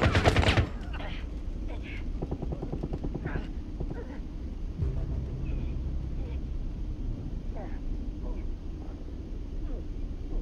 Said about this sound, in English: they shot me through there